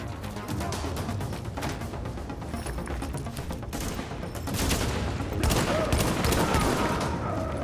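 Rifle and automatic gunfire crack in bursts throughout a firefight in the video game The Division, set at the Hudson Refugee Camp, growing louder and denser in the second half, with a voice talking briefly underneath.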